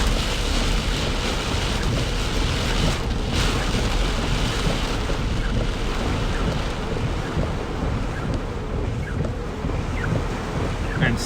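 Heavy rain and wind buffet a car during a severe thunderstorm in Ankeny, a loud, continuous roar of water and gusts with no talking.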